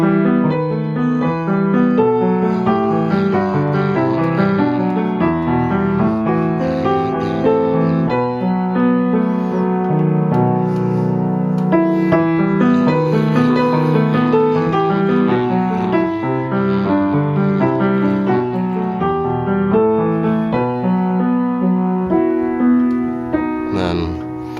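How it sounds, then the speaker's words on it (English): Solo piano plays flowing left-hand arpeggiated chords from God Rest Ye Merry Gentlemen in the low and middle register, rolling notes one after another at a steady, moderate volume with no voice. "So now if I just took the left hand and I arpeggiated it without any harmony in the right"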